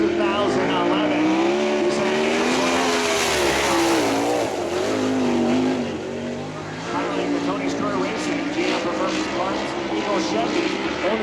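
A 2011 Chevy race car laps the track during qualifying, its engine a loud sustained drone rising and falling in pitch as it passes, under an announcer's voice.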